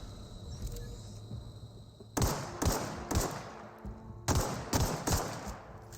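Pistol fire in The Outer Worlds video game, a run of sharp single shots in two quick bursts of three or four, loud and close over a steady background hum.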